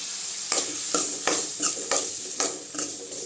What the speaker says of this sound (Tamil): தக்காளி நல்லா வதங்கணுங்க அப்போ தான் டேஸ்ட் நல்லாயிருக்கும்